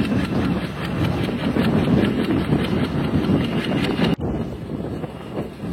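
The Nakshi Kantha commuter train, bound for Khulna, rolls into Srinagar railway station with a continuous loud rumble and rushing noise, then a sudden jolt or knock near the end.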